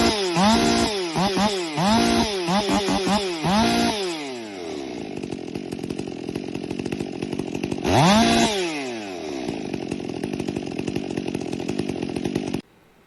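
A ported Stihl MS400 chainsaw fitted with a standard 391 carburetor revs hard in several quick bursts, drops to a steady idle, then revs sharply once more before settling and shutting off.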